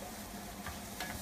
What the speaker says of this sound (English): we'll just get that mixed in with the oil, start it sizzling